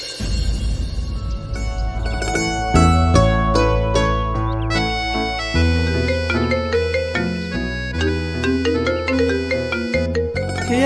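A mobile phone ringtone plays a loud, continuous melodic tune of bright repeating notes over a steady backing, filling the whole stretch with no talking.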